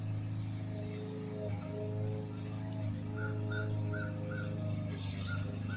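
Indoors, a dog softly whimpers in short high whines, repeating every second or so over a steady low hum, with no voices.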